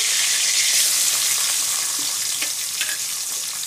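Sliced onion hits hot oil already tempered with a bay leaf, giving a steady, fairly loud frying hiss that stays even throughout, with a few small crackles and pops near the end and no one talking.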